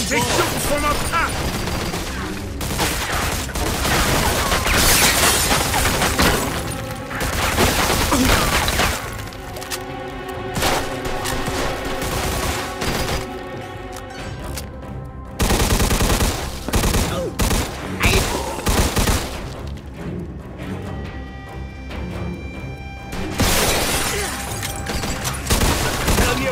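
Heavy gunfire rattles through a Mafia II shootout, bursts of rapid shots and sharp cracks piling up loud and close for nearly half a minute, with voices calling out between volleys and a brief lull partway through.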